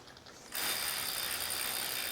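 Rapid, steady ticking of a recumbent trike's freewheel while backpedaling on an indoor trainer, a dense mechanical clicking that starts abruptly and runs continuously at close range.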